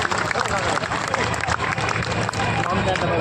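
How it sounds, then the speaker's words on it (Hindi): Dense, loud applause from a crowd standing at a Congress political rally in Hansi, continuous clapping mixed with crowd noise and babbling voices throughout. "खड़े होके जोरदार तालियों से स्वागत करें"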